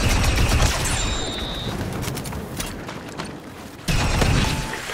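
Rapid blaster fire in Star Wars Battlefront 2 on Felucia, a dense continuous barrage with mechanical clatter that fades briefly and then surges back loud.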